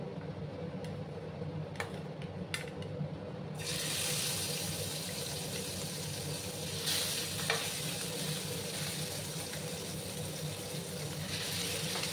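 Pieces of rohu fish slide one by one into hot oil, setting off a loud, continuous sizzle with a few sharp crackles and pops as the frying settles in.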